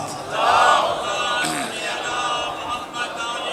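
A gathered crowd at a religious gathering answers a call for salawat with a loud collective chant, a swelling mass of voices that peaks early then holds steady, with a brief sharper cry in the middle.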